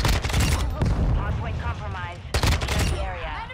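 Sustained gunfire in the video game Call of Duty MW2, dense rapid automatic bursts and booms firing near and loud in two heavy waves, with voices talking over the shooting between them.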